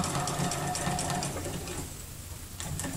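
A sewing machine stitching in the ditch during free motion quilting, a steady fast mechanical whir with a rhythmic ticking pulse, close up and alone, easing slightly toward the end.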